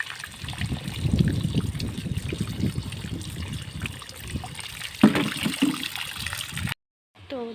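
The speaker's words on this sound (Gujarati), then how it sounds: "તો એટલે હું સીધો નળ ચાલુ રાખીને ધોવું છે એટલે બીજી વખત પાણીમાં ધોવા ન પડે." Water runs from an open tap while sibhda melons are washed beneath it, a steady close splashing and trickling with occasional louder gushes, ending abruptly before a brief faint sound.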